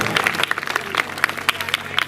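An audience at a rally in Hapur applauds revolutionary heroes with loud, dense, uneven clapping that runs for about two seconds, close and lively.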